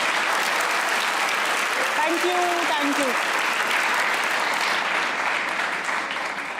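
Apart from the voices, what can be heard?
studio audience applause for guest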